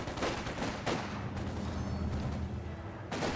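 Video game infantry assault with rapid overlapping gunfire bursts and booming shots, dense and loud throughout, with sharp onsets at the start and again near the end.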